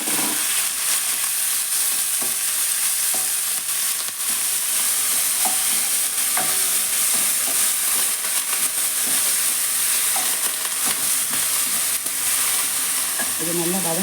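Vegetables with fried urad and chana dal sauté in a hot kadai for rava upma, a loud continuous sizzle broken by frequent scraping stirs of a spoon, close up and without talk.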